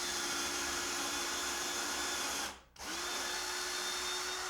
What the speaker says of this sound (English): To drill the hole straight in there.